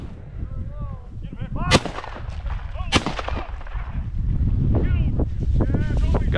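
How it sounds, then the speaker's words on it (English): A shotgun fires twice at a pheasant during an upland hunt in South Dakota's open fields, two sharp cracks about a second apart over steady wind noise, with voices and a dog's shout before and brief talk after. "I shot that one."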